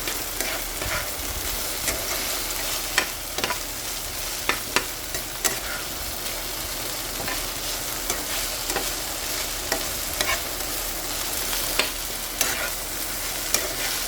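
Okra (ladyfinger, bendakaya) masala seasoned with salt and chili powder fries in a pan, giving a loud, continuous close sizzle with scattered clicks of a spoon stirring.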